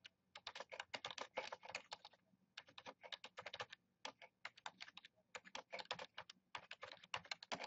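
Close, quiet computer-keyboard typing while writing a note, with quick bursts of key clicks separated by short pauses, played alone.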